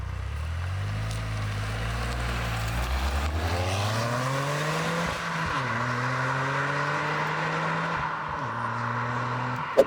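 A 2023 Toyota GR Corolla driven on the road, its engine heard from the cabin climbing through the revs, dropping at gear changes and pulling again, steady and fairly loud, without talk.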